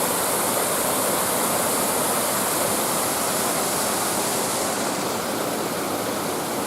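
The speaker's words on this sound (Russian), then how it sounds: "водопад, исходники которого теряются где-то в джунглях." A mountain waterfall in the jungle roars steadily and loudly, a constant close rush of falling water with no other sounds.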